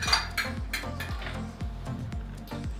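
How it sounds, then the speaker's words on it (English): Chopped onions tipped into a pan with olive oil for sautéing soup, giving a steady run of close, regular clinks and knocks about three times a second, with no sizzle standing out. "and then we're gonna put our onions in here"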